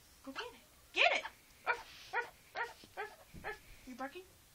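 A run of short, sharp barks and yips comes in quick bursts at close range, with people talking around them.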